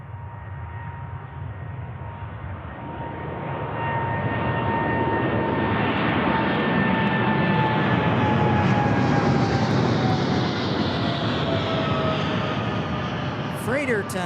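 A freighter airplane at an airport passes with a loud, sustained engine roar that swells and holds, steady turbine whine layered on top, heard from the ground nearby; a voice speaks briefly over it.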